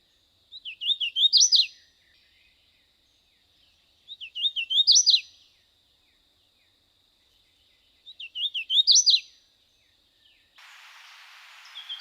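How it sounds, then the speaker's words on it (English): Hooded warbler song repeated three times at regular intervals, each a bright rising phrase of slurred notes ending in an emphatic flourish, clear and fairly close with silence between, then a soft hiss at the end. "Unique hooded warbler doesn't sound like anything else really."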